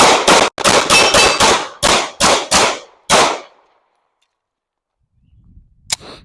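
About nine sharp CZ Shadow 2 Carry pistol shots crack out in a fast, uneven string at an outdoor range, close and loud, followed by near silence and a faint final clink.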